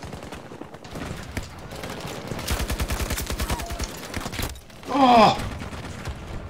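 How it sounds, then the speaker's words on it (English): RM68 assault rifle fire in the Battlefield 2042 video game: a dense, rapid burst of automatic shots in the middle, amid ongoing battle noise, with a short spoken exclamation near the end. "Oh, that's the new assault rifle, the RM68."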